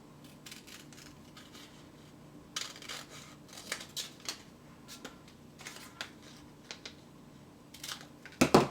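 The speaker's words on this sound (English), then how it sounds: "And we're going to cut that out." Scissors cutting out a paper pattern piece for a CD pouch, quiet separate snips and paper rustles scattered at irregular intervals against a low hum, ending in a louder handling rustle.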